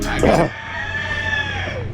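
A rooster crows with a long, drawn-out call after a brief burst of voices, over steady outdoor background noise.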